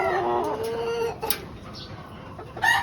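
Chickens cluck and call in close, irregular bursts inside a poultry house damaged by monsoon rains, with a rooster-like call rising near the end.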